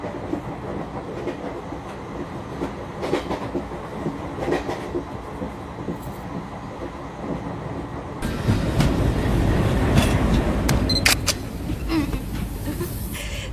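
A passenger train runs with a continuous rumble and rhythmic rail clatter that swells noticeably louder partway through and stays loud, with no talking.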